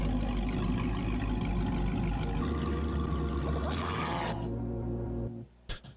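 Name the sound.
car revving with new exhaust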